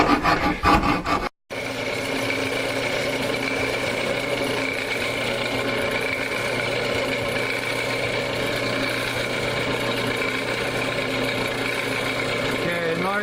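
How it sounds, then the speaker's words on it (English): A power grinder works the back of a wooden electric guitar body, giving a steady, loud rasping drone that runs almost continuously after a brief pause near the start. "I'm going to show him how to use the grinder on the back"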